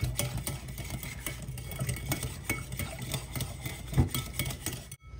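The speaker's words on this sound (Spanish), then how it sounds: "Le vamos a dar una batidita así bien para que quede bien cremosita." Butter is beaten with a balloon whisk in a bowl until creamy for walnut cookies, rapid irregular scraping and tapping strokes that continue for about five seconds and then stop.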